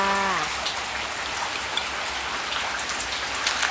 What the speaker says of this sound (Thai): ฝนตกทุกครั้งเลยนะคะ แต่วันนี้นะคะ หนักกว่าทุกครั้ง